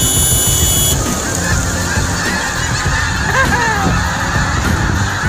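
A huge flock of wild ducks takes off from a farm field in a continuous din of honking, quacking calls over a steady wash of background noise.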